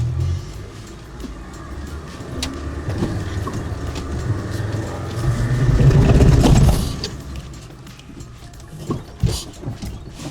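Mercedes G-Wagen W460 250GD diesel engine labouring up an off-road slope, a low rumbling drone that swells into a loud surge midway, with rattles and knocks from the vehicle as it climbs.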